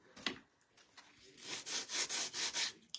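A sandpaper pad rubs back and forth over a surface in a steady run of about six raspy strokes, close and even, after a few lighter scuffs.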